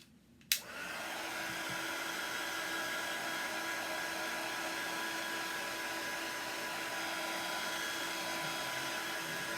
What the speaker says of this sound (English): we'll dry this with the heat tool again